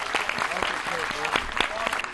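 An audience at a televised comic mushaira (Urdu poetry gathering) claps warmly, a sustained patter of many hands with a few voices calling out over the applause.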